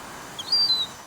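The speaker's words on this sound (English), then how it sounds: "even the seagulls have come to greet the daffodil back" A seagull gives a single brief, thin, high call, fairly clear over a soft outdoor background, on a sunny winter day by a ferry.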